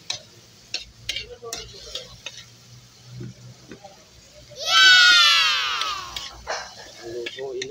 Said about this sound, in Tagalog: Lutuin natin ng maigi mga ka-angkol ang sangkap ng ating ginisang ampalaya na may halong